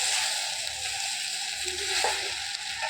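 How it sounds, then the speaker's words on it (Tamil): Pieces of idli sizzle and fry in a hot pan as they are stirred, giving a steady close crackling hiss with light scraping. No one speaks. "இப்போ இட்லியை சேர்த்துடலாம். நல்லா கிளறி விடணும்."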